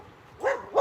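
A dog lets out two short, fairly close barks about a third of a second apart, with no one talking.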